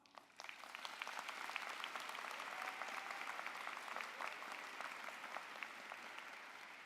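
Audience applause at a university social work school graduation ceremony, sustained steady clapping from a large crowd in a big hall, heard at a moderate distance.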